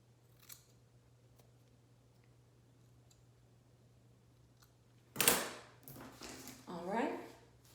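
Scissors snip through straggly hair ends close by, a few sharp crisp cuts after a long quiet stretch with faint ticks, followed by rustling and handling.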